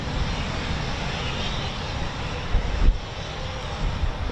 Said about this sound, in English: A two-ship of two-seater Typhoons, excellent.